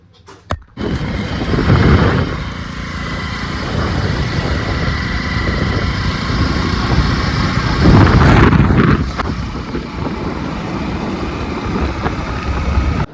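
A motorcycle engine starts and runs steadily close by, rising briefly as it revs, a continuous loud rumble throughout the ride.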